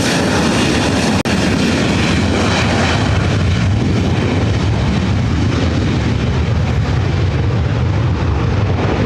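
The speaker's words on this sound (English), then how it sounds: "This is the Avianca Vamos A330 heading back to San Salvador, heading to the south side." An Avianca Airbus A330 jet airliner at LAX gives a loud, steady broadband engine roar throughout, with a sharp click near the start and no voices.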